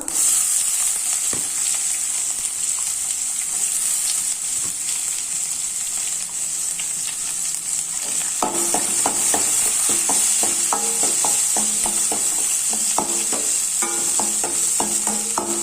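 Onions sizzle loudly in hot oil in a pan for an ivy gourd stir-fry, a constant hiss throughout. About halfway through, a flurry of quick metallic stirring scrapes begins, close up, with no voices.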